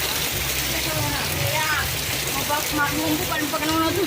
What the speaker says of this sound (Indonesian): Lihat derasnya di sini hujan.